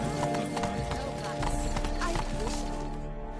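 Horse hooves clip-clopping in The Witcher 3 video game, a steady close rhythm of hoof strikes under talking voices.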